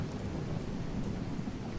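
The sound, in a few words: thunder from the True Storms weather mod in a video game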